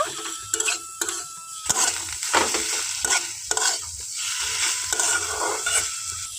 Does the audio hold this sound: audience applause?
no